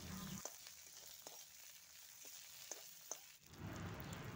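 Chopped onion and onion leaves fry in hot oil, a soft continuous sizzle with a few sharp spits and pops, quiet and close, with a brief stir near the end.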